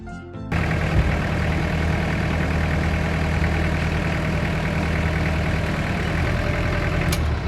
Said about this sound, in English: Now I'm going to operate the tractor and lift the drawbar up to the correct height.